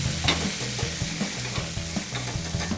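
Fish frying in a hot pan, a loud steady sizzle with a rhythmic run of metal spatula scrapes and taps as it is turned, close up and with no talking.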